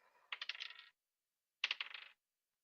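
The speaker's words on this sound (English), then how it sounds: "I'm physically rolling dice for all this." Dice rolled by hand during a tabletop Dungeons & Dragons game, two separate bursts of small rattling clatter about a second apart, close and fairly quiet, with silence between and no talk.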